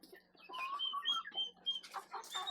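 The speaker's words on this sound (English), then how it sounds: "And this is where the chickens hang out." Chickens on a small homestead farm clucking and chattering in a loose, overlapping flock, moderately close with busy bursts of calls throughout.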